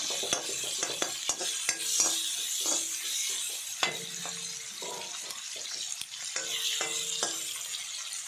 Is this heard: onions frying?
yes